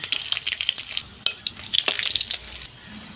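Dried red chilies dropped into hot mustard oil in a wok crackle and spit close by in uneven sharp bursts, fading to a quieter sizzle near the end.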